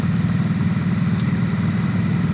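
A Harley-Davidson Nightster motorcycle out on the road, its engine giving a steady, deep throb with an even pulsing rumble. No voices, no change in pace throughout.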